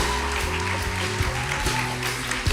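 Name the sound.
audience applause welcoming speaker on stage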